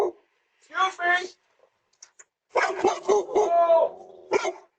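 A dog barks at a home doorstep as a delivery worker flees, heard as several loud, close barks and yips mixed with people talking and exclaiming.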